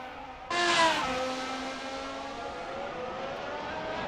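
A high-pitched Formula 1 hybrid engine in the racing game Assetto Corsa whines in at once, its harmonic tones sliding down as it eases off and settles into a steady drone.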